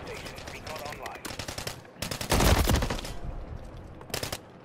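Rapid automatic gunfire in a multiplayer shooter game, quick repeated shots in bursts with a louder heavier blast in the middle, fairly quiet overall, with a voice briefly under the shooting.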